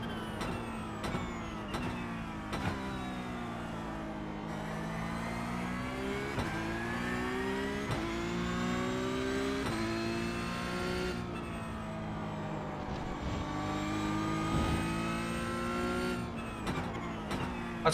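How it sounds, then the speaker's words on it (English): Porsche GT3 race car in iRacing, its high-pitched gearbox whine rising and falling through repeated gear changes with a revving engine underneath, steady and moderately loud for the whole stretch. "That's quite a standard GT3 gearbox"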